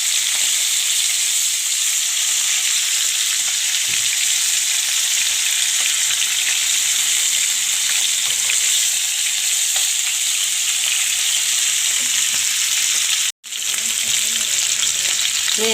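Fish sizzling loudly in a hot pan of oil after being turned over, a dense continuous crackle with occasional stirring scrapes and one brief cutout.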